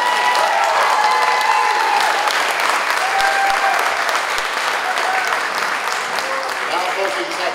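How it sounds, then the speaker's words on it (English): Dense, steady applause fills a school auditorium after a student band plays at a holiday concert, a loud continuous wash of many hands clapping for several seconds with faint crowd murmur beneath. "can we give them like a free round of applause?"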